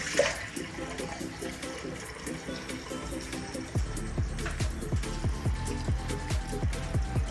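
Nearly boiling water is poured from a pot into a measuring cup, a continuous close splashing and gurgling stream whose pitch shifts lower as the cup fills.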